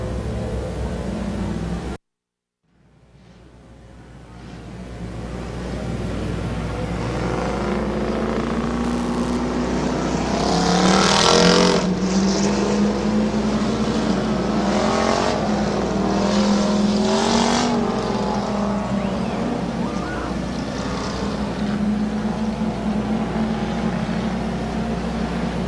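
Pure stock race cars at Midvale Speedway rumble and rev as they pull to the starting line, engines building from a sudden dropout into a loud, sustained roar with rising throttle surges.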